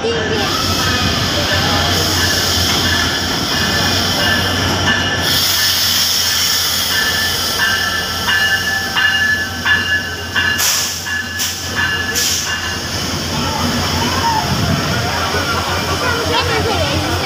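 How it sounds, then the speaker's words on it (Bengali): The Nilsagar Express, Dhaka to Chilahati, rolls into a station with a loud continuous rumble and hiss of the train, heavy and close, while people talk over it. "ট্রেন আসতেছে"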